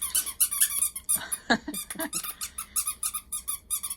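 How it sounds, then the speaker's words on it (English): Squeaker inside a dog toy squeaking in quick repeated bursts, a steady run of sharp, close squeaks with brief gaps between them. "Yeah, that has a squeaker in it too."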